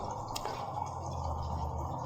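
Water from a thin drip-irrigation spaghetti line dripping into a garden fountain, a soft steady liquid patter close by with one sharper drip early on, no talking.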